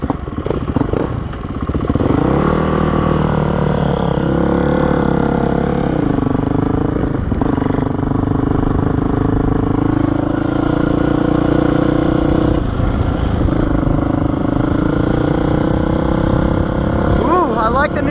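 A Honda CRF450R dirt bike runs on trails with a steady, loud engine drone that shifts in pitch as it accelerates and eases off, while a rider talks over it.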